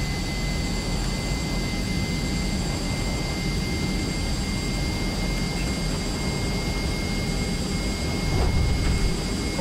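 An aircraft engine in Microsoft Flight Simulator roars at full throttle, a loud steady drone with fixed whining tones that swells slightly near the end.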